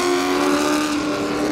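Late model race cars run at speed on a short oval track, making a loud, sustained engine drone with a strong steady tone, heard close and alone with no voices.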